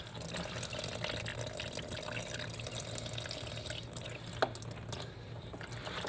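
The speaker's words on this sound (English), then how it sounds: "draining the coolant at the spot on the radiator doesn't do a whole lot as far as getting all of this out" Coolant drains steadily from a Dodge Dart radiator into a pan, a faint continuous splashing trickle with one small clink.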